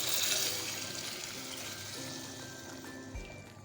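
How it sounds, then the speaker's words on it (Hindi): Yakhni bone stock pours into a cooking pot of bones fried in oil, a soft, fairly quiet liquid splash and trickle that fades, ending with a small bump. "ये तमाम यखनी ऐड कर देंगे हम"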